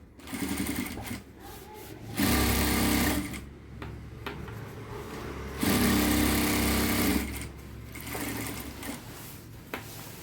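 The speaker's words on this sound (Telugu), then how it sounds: "జాయిన్ చేసిన తర్వాత పైకుట్టు వేసుకోవాలి పైకుట్టు వేస్తే కొంచెం అందంగా ఉంటుందండి" A sewing machine top-stitches a seam on trousers, running in loud bursts of rapid mechanical whirring separated by short pauses close to the microphone.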